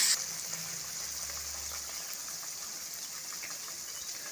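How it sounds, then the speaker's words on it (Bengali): Rinse water from a spice bowl poured into a Bengali katla fish rezala curry, a steady gushing pour that holds at even loudness through the whole stretch, with no talk. "এখন দিয়ে দিচ্ছি মশলার বাটি ধোয়া জল।"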